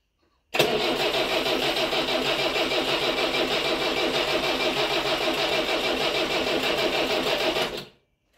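An FSO Polonez 1.5 engine cranks and catches, then runs with a steady, even mechanical drone for about seven seconds before cutting off abruptly.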